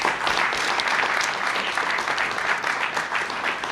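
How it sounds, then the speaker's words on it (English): A crowd at a regional housing strategy kickoff event gives a sustained round of applause, dense, even clapping from many people filling the room at a steady level. "Let's give them all a round of applause."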